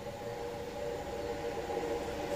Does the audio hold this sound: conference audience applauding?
no